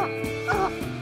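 A hunting dog barks and yips in short bursts after treeing a raccoon, close by and loud against steady outdoor background noise.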